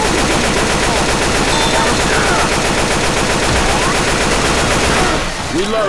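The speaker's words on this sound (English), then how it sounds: "Stop shooting me, alright?" Dense, nonstop automatic gunfire from Left 4 Dead 2 stays loud and close throughout, with rapid bursts blending into one steady roar that eases slightly near the end.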